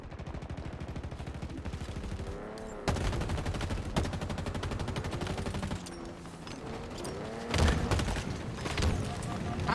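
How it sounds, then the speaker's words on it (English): Gunfire in a video game: rapid, sustained automatic shooting at close range, broken by a few louder booming hits, with a voice talking underneath at times. "I'm like not stopping firing, even when I'm getting shot at"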